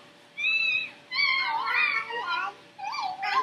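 A house cat meows several times up close, with drawn-out, wavering cries coming one after another and short gaps between them.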